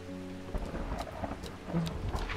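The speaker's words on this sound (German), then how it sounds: "Es donnert, es gewittert sogar." Thunder rumbles through a rainstorm in the video game Strange Horticulture, low rolling booms over steady falling rain, with a few sharper cracks.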